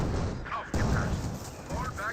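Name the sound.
smoke barrage artillery fire in the video game Company of Heroes 2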